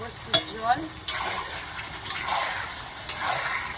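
Goat meat cooks uncovered in a pan with a continuous close sizzle and hiss. A few sharp stirring scrapes break in at intervals, and a voice talks briefly near the start.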